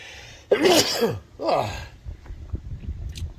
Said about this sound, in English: Hang on, gonna sneeze.